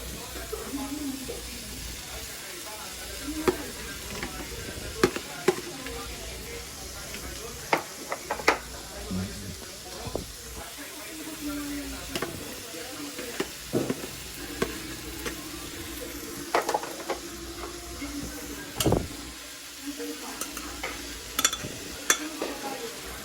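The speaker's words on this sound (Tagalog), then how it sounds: "Lagay na natin itong tuna." Tuna frying for sisig in a pan, a steady low sizzle with repeated scraping stirs and clinks of the spatula against the pan, near and moderately loud, with brief talk in the background.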